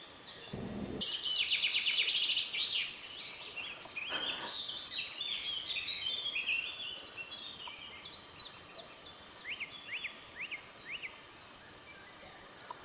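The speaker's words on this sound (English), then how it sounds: "Amazing little bird just sitting up there, making one hell of a noise" A small bird sings loud, rapid trilling phrases close by, then repeated sharp chirps, outdoors with a steady hiss of background noise.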